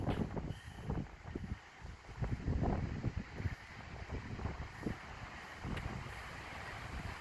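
Strong wind gusts buffet the microphone outdoors near Natural Bridge, giving a loud, continuous rumbling roar that rises and falls for several seconds with no voices.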